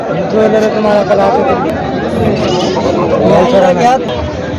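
Goats bleating at the large Ardhapur goat market in Nanded, Maharashtra, among a busy crowd, with people talking and chattering loudly all around.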